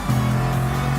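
Bugatti VGT race car in Gran Turismo Sport, driven in manual mode on racing super soft tyres, a loud steady engine drone holding one pitch with a slight shift near the middle.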